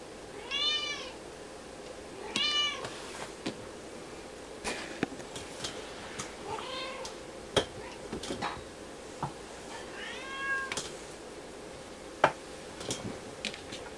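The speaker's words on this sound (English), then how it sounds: "There's a cat on the camera." A cat meows indoors four or so times: soft, short, fairly faint meows spaced several seconds apart, with light clicks and ticking in a quiet room.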